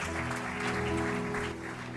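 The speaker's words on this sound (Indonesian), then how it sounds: "Kita berikan tepuk tangan buat Tuhan." A church congregation claps in a steady wash of applause, heard fairly faintly beneath sustained musical tones from the worship band.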